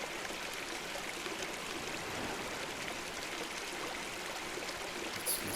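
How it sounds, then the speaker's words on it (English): A little stream runs steadily in the Shrommzzz video game, a soft continuous burble and trickle of water with no break, close and even throughout. "I hope you can hear the running water here from the little stream."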